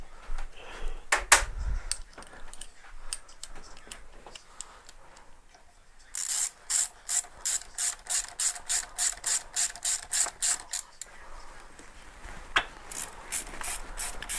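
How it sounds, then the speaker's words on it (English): A starter motor from a Husqvarna engine is handled, producing rapid ratcheting clicks, a few scattered ticks at first, then a steady train of close, crisp clicks lasting several seconds. "That's a starter motor."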